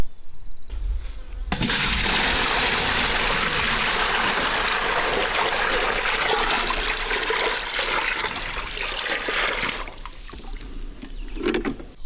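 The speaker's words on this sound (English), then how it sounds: "get some hot water in this bucket" Hot water gushes from a tap into a bucket for hand washing laundry, a loud steady rushing pour lasting about eight seconds before it cuts off, followed by faint splashing.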